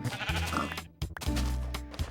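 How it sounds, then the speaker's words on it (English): Bleating sheep from the Minecraft video game, a pink sheep in a beta 1.7.3 modded world, repeating a couple of close, clear calls that stand alone with no talk. "whoa, pink sheep"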